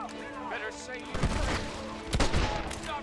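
Gunfire from the video game Red Dead Redemption: a crackle of rapid shots and heavy booming bursts, loud and close, with in-game voices talking over the shooting.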